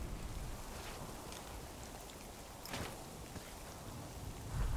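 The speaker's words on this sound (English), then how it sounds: "And the weather has picked up. It's raining." Steady rain falls in The Cycle Frontier video game, a soft, even wash of patter with a few slightly louder gusts and drips, quiet and continuous with no voices.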